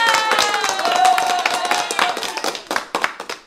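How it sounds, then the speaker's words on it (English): An audience claps during a church teaching session, a dense burst of hands that thins out into scattered individual claps toward the end, with some voice and tone in the background. "Let's clap it up."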